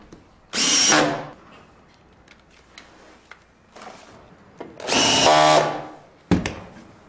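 A power drill whirs in two loud bursts, driving a SPAX screw into a wooden post, with quieter clicks and knocks between and after them.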